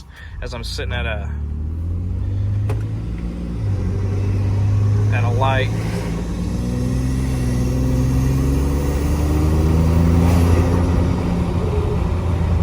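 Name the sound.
2020 Ford F-150 EcoBoost engine heard from inside cab, turbo silencers removed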